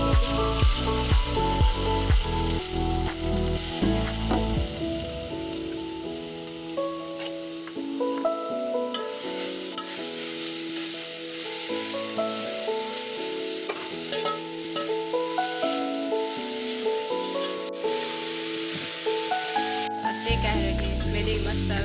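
Ghee heats and sizzles in a pan for carrot halwa, giving a soft frying hiss with occasional stirring and scraping sounds, all under prominent background music.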